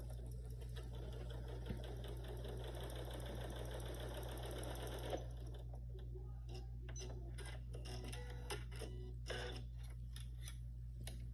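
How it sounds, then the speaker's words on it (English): A domestic sewing machine stitches dress seams from underarm to neckline in a steady, close whir for about five seconds, then stops, leaving quiet clicks and small handling taps of fabric. "So I'm going to do that now, sewing from the underarm up to the neckline"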